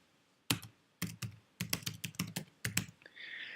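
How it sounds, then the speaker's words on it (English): Keys clatter on a computer keyboard as a password is entered, in about ten quick, close clicks grouped into short bursts with brief pauses. A faint rustle follows at the end. "I'm going to type in I space understand."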